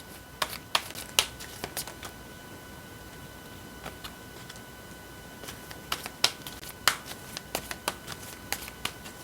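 Tarot cards are shuffled and handled with a scatter of sharp, crisp clicks and flicks at an uneven pace. Quiet hiss fills the gaps, and there is no talking.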